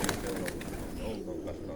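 A red speckled pigeon coos softly amid steady background noise, its low calls repeating through a short stretch, fairly faint and unaccompanied by speech.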